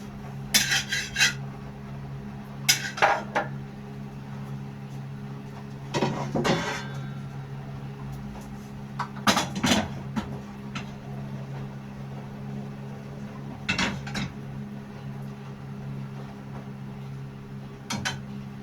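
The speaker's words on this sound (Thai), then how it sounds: "ไข่นี่เข้าตีเราก็ผสม ผสมน้ำซุปจังหน่อย" A utensil beating eggs in a bowl clinks and scrapes in short, irregular bursts, with a steady low hum in the background.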